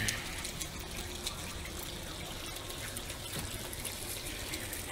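Water runs steadily through a gold paydirt sluice with freshly changed, cleaner water, a constant close trickling and pouring wash with no talk over it.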